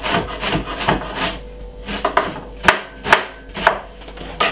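A knife chops red onion for a summer salad on a cutting board, giving a run of sharp, close knocks with soft scraping between them, each cut distinct and fairly loud, with no talk.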